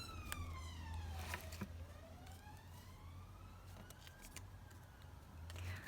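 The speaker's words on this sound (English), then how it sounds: "we have a siren now going past." An emergency vehicle siren passing at a distance, its wail sweeping up and down over low traffic rumble, faint and steady, with no talking.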